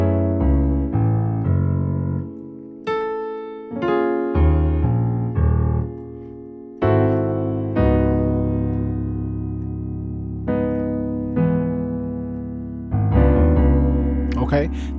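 Slow, deliberate piano playing the bass line of a song: low notes struck one after another, each ringing and fading before the next, clear and close with no talking.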